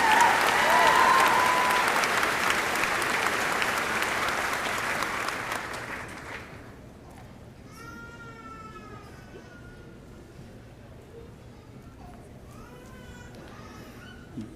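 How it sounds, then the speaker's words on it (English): Loud, dense applause from a graduation crowd at a high school ceremony, filling the first six seconds before fading out, followed by a quieter stretch with faint sirens and distant traffic. "Let's give these brave individuals one more round of applause for their forthcoming service to our nation."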